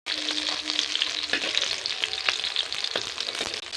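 Pangas fish pieces frying in a pan make a dense, continuous sizzle with crackling pops and a few sharp scraping clicks, close and fairly quiet, with no voices.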